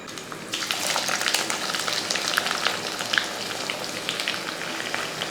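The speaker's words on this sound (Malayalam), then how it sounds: "ഇനി ആ എണ്ണയിലിട്ട് തന്നെ നമുക്ക് ഈ ഇഞ്ചിയും കൂടെ വറുത്തെടുക്കാം." Sliced ginger fries in hot oil for a Kerala-style inji curry, the same oil just used for garlic. A steady, dense sizzle and crackle runs throughout at close range, with no talking.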